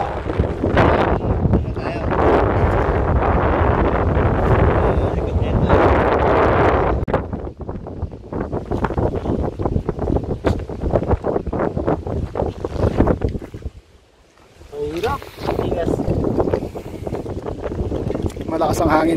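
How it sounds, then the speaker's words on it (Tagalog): Strong, gusty northeast monsoon wind at sea near White Island buffets the microphone with a roaring rumble, easing briefly before picking up again, with faint voices underneath. "Malakas ang hangin dito eh"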